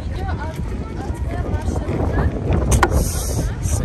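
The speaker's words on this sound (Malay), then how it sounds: "Nikmat kena angin, Bosphorus pula kan." Wind sweeping across the Bosphorus waterfront in Istanbul, a steady, close rushing and buffeting against the microphone that grows stronger toward the end, with people talking faintly underneath.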